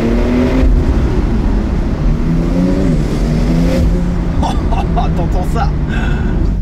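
Porsche 992 Turbo S engine revving, a loud, close mechanical drone that rises and falls in pitch, with someone talking over it throughout.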